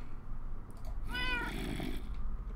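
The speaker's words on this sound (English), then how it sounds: "Oh, kitty cat!" A cat in the video game Minecraft gives a single clear, drawn-out meow over a low steady background hum, with no talk.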